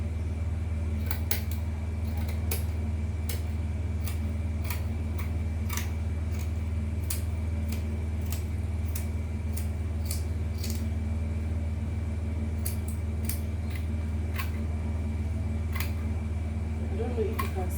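Scissors snip through mermaid gown fabric in a steady series of short, crisp cuts, close by over a constant low machine hum.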